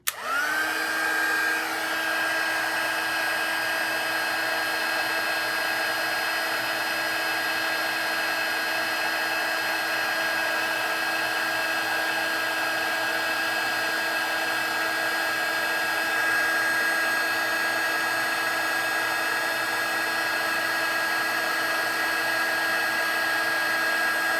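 A heat embossing tool blows hot air over stamped embossing powder, a steady, close whirring drone with a high whine that holds evenly for the whole stretch, with no talk.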